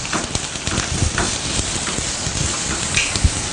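Minced ginger and garlic sauté with browned onions in a pan, a steady close crackling sizzle with soft stirring scrapes throughout, no speech.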